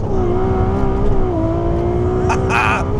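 A Ferrari 296 GTB engine pulls hard under acceleration, a loud, steady rising drone with a brief shift-like dip midway and a sharp burst of higher noise near the end.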